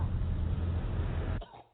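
A man coughs into a mask on a plane, a single dense, rough burst lasting over a second and then cut off, close and fairly loud with no other voices.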